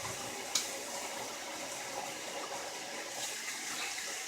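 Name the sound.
washing hands under running tap water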